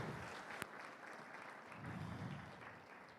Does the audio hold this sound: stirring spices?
no